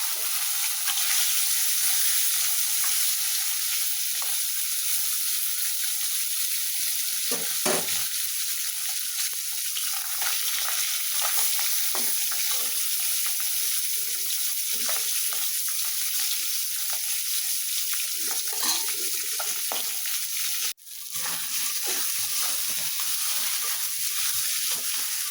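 Small taki fish fry in hot oil in a kadai in a village kitchen, giving a continuous close sizzle with occasional stirring and scraping and one sharp knock near the end; no talking.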